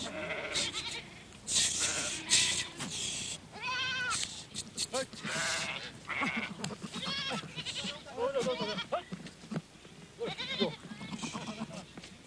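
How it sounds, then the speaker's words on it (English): A herd of about 500 goats gathered in a roundup near Namche Bazaar in the Khumbu, Sagarmatha National Park, bleats repeatedly, with overlapping nearby calls coming in rapid, uneven bursts. "almost 500 goats at last are gathered near Namche Bazaar"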